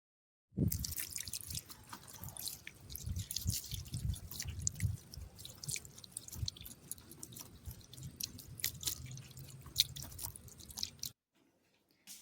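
Water from a bucket poured with a mug onto vegetable plants in a home garden, a steady run of splashing, dripping and trickling close by for about ten seconds before stopping.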